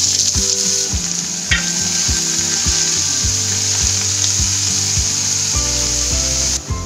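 Chopped fenugreek leaves go into a hot garlic tempering and fry with a loud, steady sizzle. Repeated wooden stirring scrapes and knocks sound close by, with no talking.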